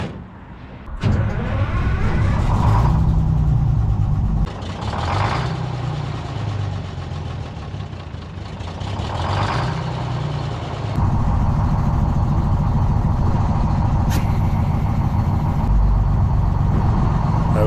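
A White Road Xpeditor truck, parked since 1996, idles along on its governor with a steady, loud, low rumbling engine that holds the same throbbing note from start to finish, with a few faint clunks.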